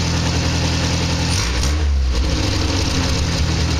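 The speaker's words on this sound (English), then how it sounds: "just idling a tiny little bit too high." A Triumph TR3A engine idles steadily nearby, slightly too high, with a brief dip and change in pitch midway, then settles back into an even hum.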